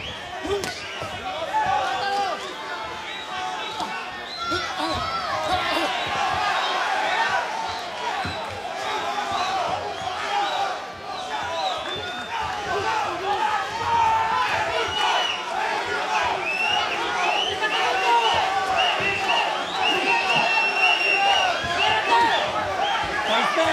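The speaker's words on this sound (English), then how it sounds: "Listen to the crowd react for this final 50 seconds of this fight." Boxing arena crowd during the final seconds of an Oscar Valdez fight, a loud roaring mass of shouts and cheers with sharp impact-like smacks and voices rising over it, sustained throughout.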